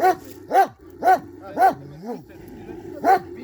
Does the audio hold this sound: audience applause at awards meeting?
no